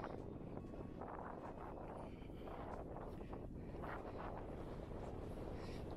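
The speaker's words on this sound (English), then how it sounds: "it's a bit windy" Strong wind buffets the microphone at the top of Grindslowe Knoll on a wild camping hike, a loud, continuous roaring gust noise with no pause and no talk.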